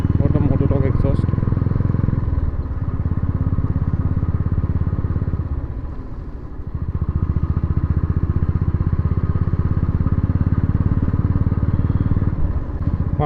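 A Royal Enfield motorcycle fitted with a MotoTorque Launcher Pro aftermarket exhaust thumps steadily at a loud close idle, with a couple of slight revs and dips in its throbbing pulse.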